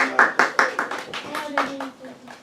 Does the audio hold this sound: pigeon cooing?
no